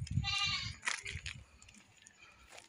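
Goats bleating outdoors near a bridge on a farm-like roadside, a couple of loud wavering bleats at the start, then quieter distant bleats and background noise.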